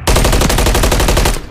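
Rapid automatic gunfire from a Call of Duty online match, a loud, close burst of evenly spaced shots lasting just over a second, with no talk over it.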